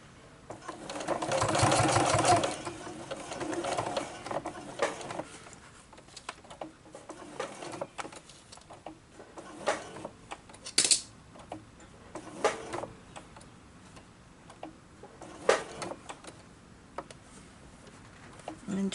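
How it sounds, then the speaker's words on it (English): Sewing machine stitching a fabric glasses case, a quiet rapid mechanical patter in short bursts separated by pauses and soft handling clicks. "And then just keep sewing to the end."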